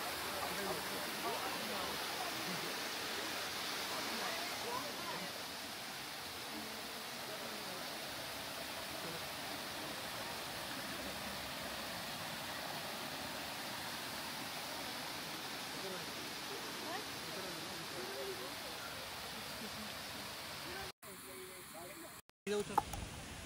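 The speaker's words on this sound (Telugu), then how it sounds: "సో మేము వచ్చిన ఫస్ట్ స్పాట్ వచ్చేసి ఈ వాటర్ ఫాల్ అనమాట." A waterfall in El Yunque rainforest, Puerto Rico, gives a steady, even roaring wash that fills the scene without a break. A few brief knocks and dropouts come near the end.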